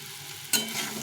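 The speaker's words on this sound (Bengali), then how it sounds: "দিয়ে এটাকে ভালো করে ভেজে নেব" Pumpkin with chickpeas and peanuts fries quietly in a pan, and a single scraping stir cuts through the soft sizzle midway.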